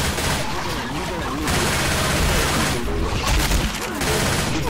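Dense gunfire in the Left 4 Dead 2 video game, rapid overlapping shots and bursts filling the scene continuously, loud and close, with voices talking over the shooting.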